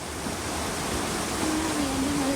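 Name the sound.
floodwater rushing during typhoon Ondoy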